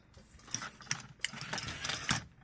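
Motor of a cheap remote-controlled toy velociraptor walking, a quiet whirring of plastic gears with rhythmic clicks and ratcheting ticks at a steady pace, heard up close.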